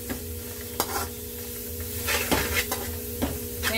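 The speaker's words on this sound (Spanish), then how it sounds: "Vamos, sofreímos, ¿verdad?" A meat filling with chopped olives and a spoonful of sauce sautés in a pan for pasteles en hoja, a low sizzle broken by several sharp utensil knocks and scrapes against the pot, nearby and without speech.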